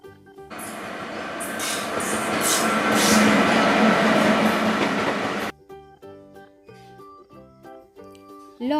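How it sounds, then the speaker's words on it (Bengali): A fast-running train is heard as a sound effect, a loud roaring rush that swells and then cuts off abruptly, followed by light musical tones. "রেলগাড়ি জোরে চলে।"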